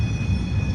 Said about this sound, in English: there's another metro coming, so I'll wait for that one to come